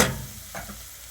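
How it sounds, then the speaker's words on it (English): Onions and garlic sautéing in olive oil, a soft steady sizzle with a brief stir or scrape partway through, fairly quiet and close, no voices. "The onions and the garlic have been sauteing and giving the olive oil some additional great flavor."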